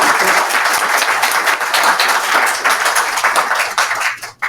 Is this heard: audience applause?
yes